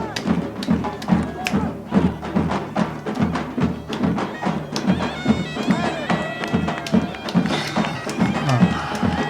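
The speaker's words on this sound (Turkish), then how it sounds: "Bu davul sesi de gerçekten güzel." Drums thump in a steady, lively rhythm with sharp hits over a busy musical backdrop of the Karabakh Yallı folk dance in Shusha, loud and close.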